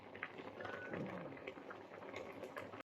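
Tinuto (laing), taro leaves in coconut milk, simmers in a pot with a soft, continuous bubbling and popping, fairly quiet and close, cutting off abruptly at the end.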